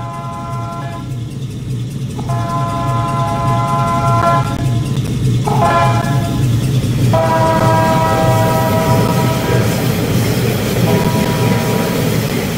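A second Tri-Rail train horn in a Roblox game sounds in several chordal blasts of varying length over a constant loud rumble of the moving train.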